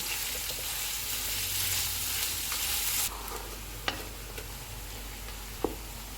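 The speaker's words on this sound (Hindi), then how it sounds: "प्याज डालेंगे, इनको गोल्डन ब्राउन फ्राई करेंगे।" Onions sizzle and crackle loudly in a hot pan, with a few sharp clicks from stirring and a brief scrape near the end.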